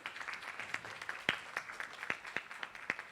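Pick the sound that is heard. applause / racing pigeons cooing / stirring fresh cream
applause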